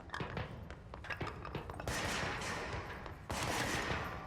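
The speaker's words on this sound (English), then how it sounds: "Somebody shot at me" Enemy gunfire in the video game Control, rapid shots crackling in quick bursts close by, building into a dense volley over the last few seconds.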